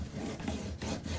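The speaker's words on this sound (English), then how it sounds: "Grab my bone folder and just burnish" A bone folder burnishes patterned paper pressed onto an album box, giving a continuous dry rubbing and scraping sound with brief pauses, close and fairly loud, with no talking.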